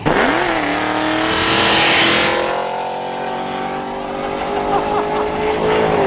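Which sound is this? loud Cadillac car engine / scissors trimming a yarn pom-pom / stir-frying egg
loud Cadillac car engine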